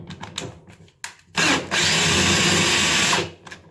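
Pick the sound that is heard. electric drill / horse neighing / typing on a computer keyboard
electric drill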